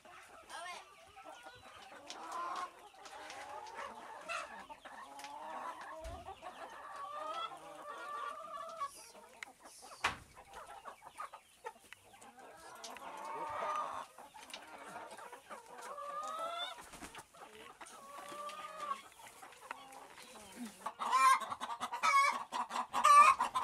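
Free-range hens cluck and murmur inside a henhouse, with a steady chorus of close and distant calls that swells louder toward the end, and a few faint human sounds mixed in.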